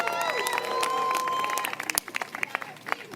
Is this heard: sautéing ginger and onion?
no